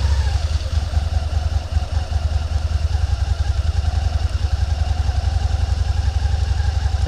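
A Suzuki SFV650 Gladius V-twin runs at a steady, close idle with an even low rumble and no voices.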